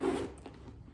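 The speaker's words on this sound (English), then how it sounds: "The back zipper, pretty easy to use." A zipper pulled along the back pocket of a Louis Vuitton Pochette Metis handbag, one close, quick zipping stroke that fades into a quiet rustle.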